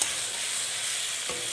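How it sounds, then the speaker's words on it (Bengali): Spices and ridge gourd sautéing in a pan over medium-low flame, giving a continuous soft sizzle with a brief stir or scrape near the end. "মিডিয়াম টু লো ফ্লেমে একটু হালকা আছে একটু কষিয়ে নিচ্ছি।"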